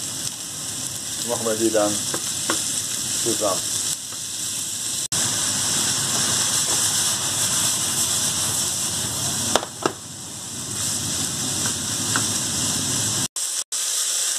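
Minced lamb frying in a pan, a loud continuous sizzle held close for most of the stretch, with a few clicks and scrapes of stirring and a short spoken phrase early on.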